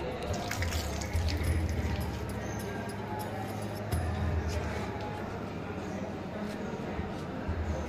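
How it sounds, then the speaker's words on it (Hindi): Water splashing from a 150-year-old tap at a madrasa in Deoband, a steady running gush with drips against stone, heard close and continuous while someone speaks over it. "यहाँ पर एक जो है वो नलका है जो कि 150 साल पुराना बताया जाता है"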